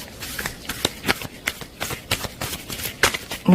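Tarot cards are shuffled by hands in nitrile gloves: a close, continuous run of rapid papery riffles and flicks, with slight swells as the cards are bridged and pressed together.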